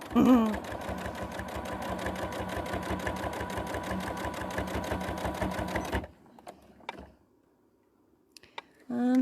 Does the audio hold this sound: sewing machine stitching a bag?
yes